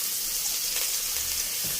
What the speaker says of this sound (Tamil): அது என்ன போட்டு தாளிக்கிறீர்கள்